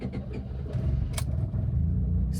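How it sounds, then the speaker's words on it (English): A 1997 Honda Accord LX engine turns over and runs, giving a steady low rumbling idle close by, with a brief sharp click partway through. "Start now."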